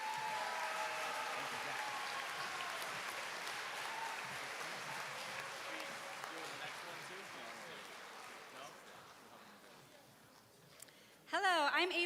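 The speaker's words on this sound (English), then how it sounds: "Let's give our law and public safety students another big round of applause" Broad applause from an audience at a career academy recognition ceremony honoring law and public safety students, steady and fairly distant, slowly fading over several seconds before a brief burst of speech near the end.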